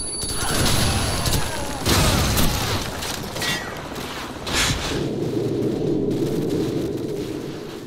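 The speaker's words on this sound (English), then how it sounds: "Frag out." Heavy gunfire and explosive blasts fill a Call of Duty: Modern Warfare battle as a frag grenade goes off, with dense cracking shots and booms, then a lower rumbling roar persisting loudly to the end.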